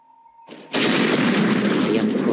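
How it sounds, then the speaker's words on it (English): A medium mortar shell explodes in the video game Silent Storm: a short tone, then a sudden loud boom that settles into a sustained, dense rumble. "Medium mortar shell."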